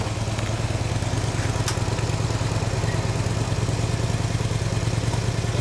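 A motorcycle engine runs at idle nearby, a continuous low rumble with a rapid, regular beat.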